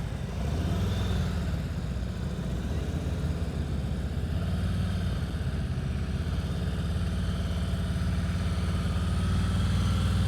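A motorcycle rolls at slow speed during a slow-riding practice session in North Carolina, easing to a smooth stop on the rear brake, its loud, steady low engine rumble running close and continuous throughout.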